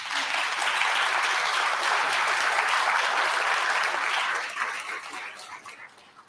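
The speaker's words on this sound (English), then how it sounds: "How about a round of applause?" An audience at a gubernatorial candidate forum breaks into dense, loud applause that holds steady before tapering off toward the end.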